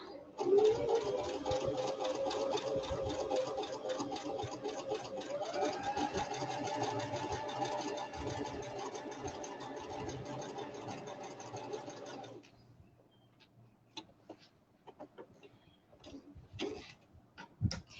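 A sewing machine stitches a pocket using a pocket template set, running in one close, steady whirring stretch of rapid ticking for about twelve seconds before stopping, followed by a few faint clicks and handling sounds.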